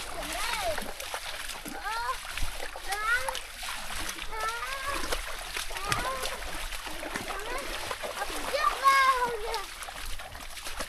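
Feet splash through stream water on a jungle water trek, irregular and close, while children and adults talk and call out over the sloshing.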